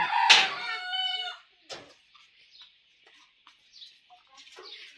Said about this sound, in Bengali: এটা হচ্ছে ব্রাহ্মণ মুরগি